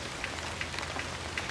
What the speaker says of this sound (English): I think it's starting to rain harder